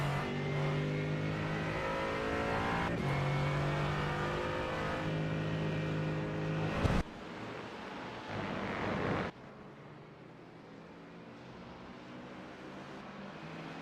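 Toyota GR86 and GT4 race cars roar past during a mixed sprint race, engines droning loud and sustained, then the sound cuts abruptly to a quieter, more distant engine rumble.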